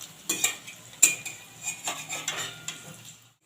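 Kalmi greens pakoras being turned in a wok of hot oil, with a run of light metal clinks and taps from the utensil over a soft, steady sizzle, close and alone without talk.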